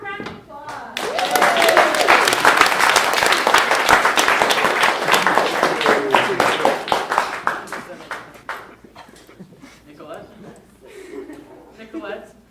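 Audience applause at a live comedy and magic show, loud dense clapping that swells quickly, holds for several seconds, then fades as scattered claps and chuckles trail off.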